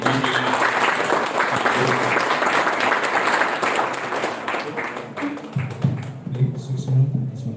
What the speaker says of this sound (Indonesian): tepuk tangan sani muni